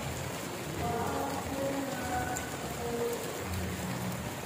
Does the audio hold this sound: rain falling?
yes